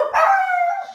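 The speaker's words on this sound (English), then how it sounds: "sorry, I'm so sorry, my dog barked" A single dog bark drawn out into a short yelping howl, close and fairly loud, standing alone with no talk over it.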